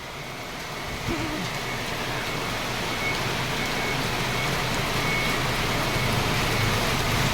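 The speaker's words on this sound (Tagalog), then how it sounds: "Ayan ang ulan. Malakas. Pabugso-bugso." Heavy rain from Typhoon Carina pours in a dense, continuous hiss, rising in strength after the first second and holding steady at close range with no voices.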